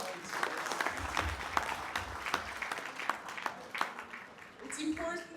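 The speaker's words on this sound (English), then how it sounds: "Can you help me with a round of applause to all the volunteers?" Crowd applause for volunteers at an Independence Day celebration held by an Indian community society in Edmonton, moderately distant and somewhat faint, with a voice speaking near the end.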